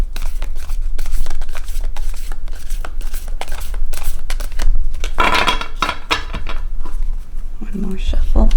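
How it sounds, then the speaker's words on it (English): Tarot cards riffle and slap together in repeated shuffling bursts, close and crisp, with a voice speaking quietly over the handling. "One more shuffle."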